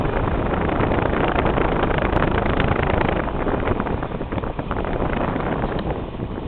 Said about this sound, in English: Insert wind noise.